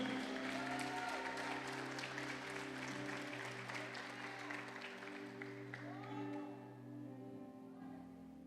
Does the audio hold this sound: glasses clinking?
no